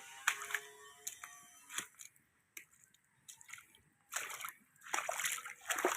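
Flood water splashes around a crop and livestock farm in a series of faint, irregular sloshes and splatters, separated by short quiet gaps and occasional soft clicks.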